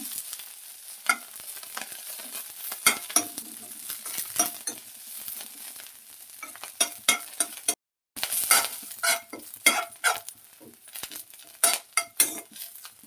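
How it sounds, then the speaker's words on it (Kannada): Kiskara flowers frying slowly in a pan over a low flame, with a faint sizzle under repeated close scrapes and light clinks of a stirring spoon, no voices. "ಲೋ ಫ್ಲೇಮಲ್ಲಿ ನಿಧಾನವಾಗಿ ಹುರ್ಕೊಳ್ಬೇಕು"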